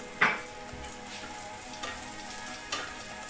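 Julienned courgette sizzles in a pan alongside chicken drumsticks with a quiet, steady fry, marked by a few sharp clinks of a utensil against the pan.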